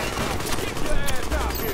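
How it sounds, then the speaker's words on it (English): Rapid machine gun fire bursts in the video game The Division, dense and continuous through a short stretch. "here comes the machine gun fire"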